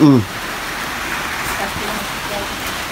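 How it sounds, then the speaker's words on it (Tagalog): Steady, dense rain hisses continuously, with a brief voice at the very start. "Grabing ulan sa amin, magdamag."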